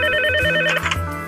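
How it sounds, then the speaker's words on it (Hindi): An office cabin intercom telephone rings with a bright electronic trill in steady repeated pulses, close and loud, with no voices. "तभी उसके कैबिन का इंटरकॉम बज उठा।"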